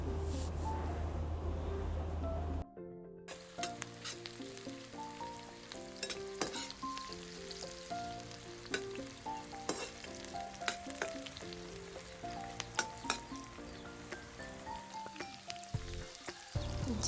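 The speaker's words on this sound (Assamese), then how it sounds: "তেল গৰম হ'ল, ইয়াতে দিলোঁ মই এইবাৰ পিঁয়াজ। সেয়া পিঁয়াজখিনি ভালদৰে ভাজি ল'ম।" Onions frying in hot oil in a kadai outdoors, a steady loud sizzle with crackling and occasional stirring clinks, following a short burst of noise at the start.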